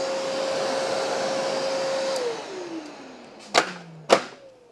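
A Festool CT 36 M Class AutoClean dust extractor with a sealed bag runs with a steady, loud whine that winds down partway through, followed by two sharp knocks near the end.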